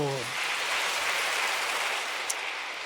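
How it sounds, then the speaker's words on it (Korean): A church congregation at a Sunday service claps in a steady, dense wash of applause that carries on throughout, after a brief trailing voice at the start. "하나님께 다시 한번 영광의 박수"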